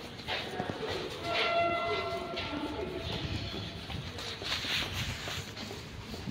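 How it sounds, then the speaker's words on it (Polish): An Intercity train arrives at a platform of Warszawa Zachodnia station in Warsaw, a steady rolling rumble with faint thin wheel squeals over the platform ambience. "Bo Gryfin przyjechał z pociągiem Intercity Gałczyński."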